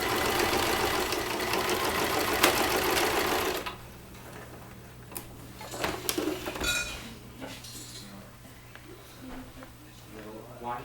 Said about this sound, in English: Sewing about 3/8 of an inch from the edge.